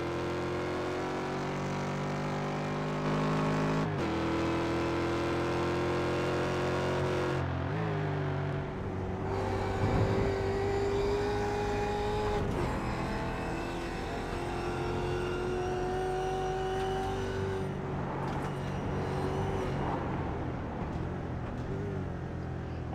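A Ford Mustang race car engine in a racing simulator, approaching turn one at Summit Point at high speed, roaring steadily with rising and falling pitch through repeated gear shifts and revving sweeps, loud and continuous.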